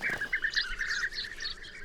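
A colony of European bee-eaters at a sandy riverbank along the Danube gives bright, rolling chirps, repeated in quick overlapping bursts against soft open-air background.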